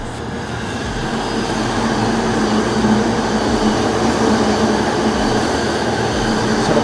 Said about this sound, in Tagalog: Sarap talagang panoorin ang mga train dito.